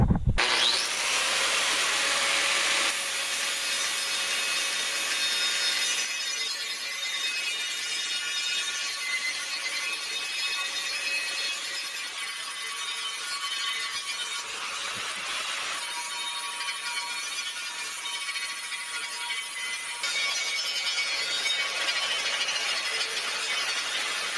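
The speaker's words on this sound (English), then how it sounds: "Take my grinder with a flap disc. I'm just gonna grind the weld smooth." An angle grinder with a flap disc smoothing a weld on a 15-inch Pro Comp steel wheel during a beadlock install, a loud continuous abrasive whine and rasp that holds for over twenty seconds, up close with no talk.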